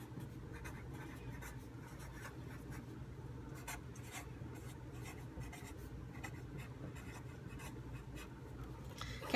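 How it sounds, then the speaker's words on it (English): A pen scratches across paper while a title is written at the top of a page, with soft, continuous strokes and small pauses. It is close-up and quiet, with no talking. "So across the top of my page, I'm going to write the words Energy Vocabulary."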